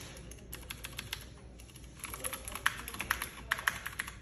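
A mechanical keyboard with blue switches, a Duck One 2 Mini, is typed on up close: a steady run of crisp, clicky keystrokes that grows denser and slightly louder partway through, with no voices.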